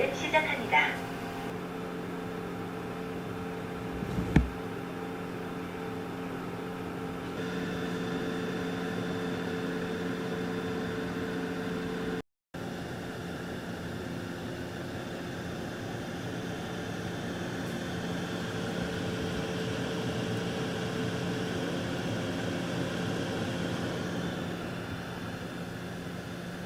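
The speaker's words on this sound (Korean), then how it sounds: "물걸레 건조할 때 우웅 하면서 소음이 조금 있긴 한데 크게 거슬리지는 않고요." An iNIC ix10 robot vacuum's mop-drying fan hums steadily, recorded right in front of the base station, a continuous close whirring drone with a brief cut midway.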